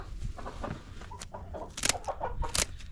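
Chickens cluck close by, including a lavender rooster, with scattered short clucks and a couple of sharper squawks over a few seconds.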